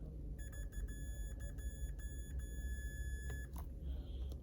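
A multimeter in continuity mode beeping as capacitors on a Sharp 50BL2KA power supply board are tested: a steady high tone lasting about three seconds, broken by several clicks, followed by brief chirps and low hum.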